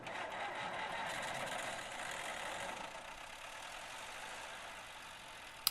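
Fortschritt E512 combine harvester engine in a video game running with a steady mid-range mechanical drone, loud at first and easing slightly after a few seconds, with a small click at the very end.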